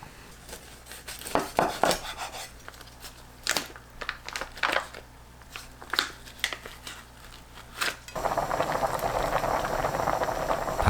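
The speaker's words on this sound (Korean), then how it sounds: "중불로 계속 끓여주시면 돼요." Kimchi bean sprout soup boiling in a pot on medium heat: first scattered clinks and rattles, then a steady close bubbling and hiss filling the last few seconds, no voices.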